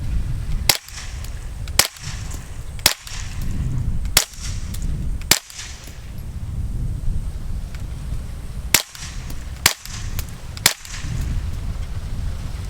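Suppressed Smith & Wesson FPC folding 9mm carbine fired outdoors, eight sharp cracking shots in an uneven rhythm over about twelve seconds, fairly loud against a steady background rumble.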